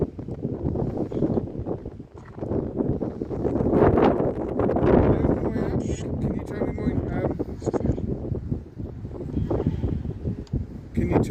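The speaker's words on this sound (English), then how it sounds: "That was wind. I got so excited there, it's just the wind." Wind gusts buffet a microphone outdoors near a bridge at an abbey at night, a low rumbling roar that swells and fades under people talking quietly.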